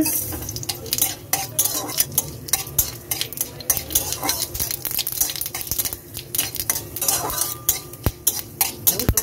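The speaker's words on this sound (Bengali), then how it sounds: "একটু সর্ষে আর মেথিটা ভাজা ভাজা হয়ে আসলে দিয়ে দেবো রাঁধুনি" Mustard and fenugreek seeds crackle and pop in hot oil, with scattered sharp clicks and a spoon scraping and stirring the pan throughout.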